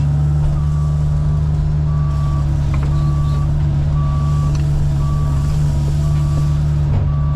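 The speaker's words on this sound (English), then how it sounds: "with the skid steer when I get it down in there" A skid steer loader reverses on a rocky gravel excavation site, its backup alarm beeping in a steady, evenly spaced series over a loud, constant diesel engine drone.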